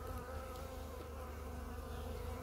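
Honeybees hum at an opened hive during a winter colony check, a dense, steady, close buzzing with no voices.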